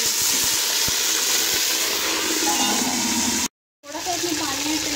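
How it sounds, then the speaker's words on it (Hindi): Water poured into a pan of frying onions for chana pulao, a steady loud sizzling hiss with light stirring clicks, cut by a brief silent gap before the sizzle resumes. "अब मैं इसके अंदर थोड़ा सा पानी ऐड"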